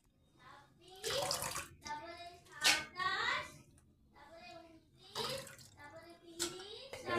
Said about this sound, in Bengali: এভাবে শাকটাকে 2 থেকে 3 বার খুব ভালোভাবে ধুয়ে নিতে হবে।